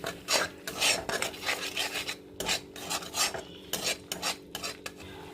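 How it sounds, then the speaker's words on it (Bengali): Prawn posto masala, a poppy-seed paste with a little water added, stirred and scraped in a pan: rapid repeated rasping scrapes of a spatula against metal over a faint sizzle, close and busy, with no voices. "এবং এটাকে আবার কষিয়ে নেব ভালো করে।"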